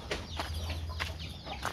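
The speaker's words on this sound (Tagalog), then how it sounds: "Dahil po may mga manok pa po" Black Australorp chickens on a goat farm cluck in short repeated bursts, several hens close by over a steady low farmyard hum.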